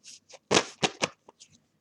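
Tarot cards being shuffled by hand at close range, with several quick papery riffles and slides, spaced bursts separated by brief silences, with no talking.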